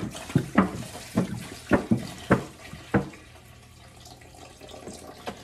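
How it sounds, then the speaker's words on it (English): Water goes into an American pressure canner sitting on a stove, in a series of sharp splashing bursts over the first three seconds, then quieter sloshing with one last small splash. "I'm gonna put 3 inches of water into my pressure canner."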